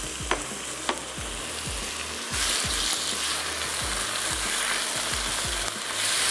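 Tomatoes sizzle and fry in a pan as a spoon stirs them, with steady close sizzling and repeated soft scraping strokes, and no voices.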